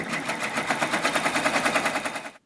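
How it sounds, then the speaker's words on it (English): A home embroidery machine stitching around the edge of an in-the-hoop zipper bag in a 4x4 hoop makes a fast, even, close mechanical rattle for about two seconds and then stops abruptly. "will run a stitch around almost the entire edge of the bag."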